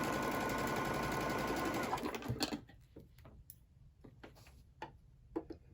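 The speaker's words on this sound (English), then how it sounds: "And just sew from corner to corner." Sewing machine stitching quilt squares corner to corner, a steady close whir for about two seconds that stops, followed by scattered light ticks and clicks.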